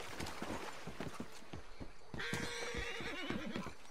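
A horse whinnies loudly midway in the video game Red Dead Redemption 2, a long high neigh over steady rhythmic hoof clip-clops that continue throughout.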